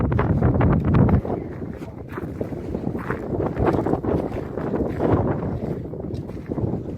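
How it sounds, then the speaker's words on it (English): Strong wind gusts across a hilltop on the Pacific Crest Trail, buffeting the microphone with loud, continuous low rumbling that rises and falls throughout. "I heard the wind was really strong up here. I'm feeling it now."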